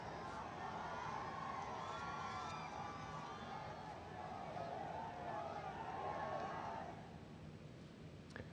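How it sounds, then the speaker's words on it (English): A large crowd gathered along a roadshow route to greet the Prime Minister, with people showering petals; a steady wash of crowd noise and distant cheering fills the whole stretch, easing slightly toward the end. "A huge crowd had gathered to greet Prime Minister during the roadshow."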